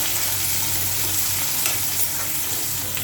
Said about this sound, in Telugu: ఉల్లిపాయలు కూడా కొంచెం వేగనివ్వాలి